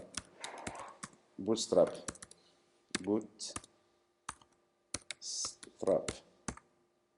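Computer keyboard keys click in short bursts while a command to install Bootstrap with Bower is typed, crisp close taps scattered between someone speaking French.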